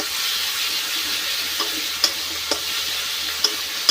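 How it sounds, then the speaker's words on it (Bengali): Ghugni spice masala sautéed in a pan gives a soft continuous sizzle, while a spatula scrapes and taps the pan a few times. "আর এই যে ঘুগনির মশলা কষাচ্ছি এখানে"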